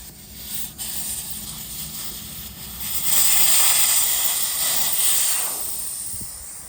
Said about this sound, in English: Now if your tire's full of air, don't let it shoot out on you. Let it deflate for a second.